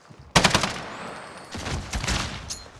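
Automatic gunfire in Call of Duty: Modern Warfare starts abruptly with a loud, close burst of rapid shots, then continues as a rattling barrage with a second cluster of shots and a sharp crack near the end.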